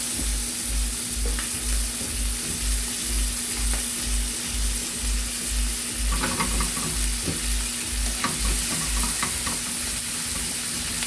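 Steak basted with melted butter in a frying pan, a loud continuous sizzle and spatter up close, with scraping and clinks as the butter is spooned over, under a steady low hum.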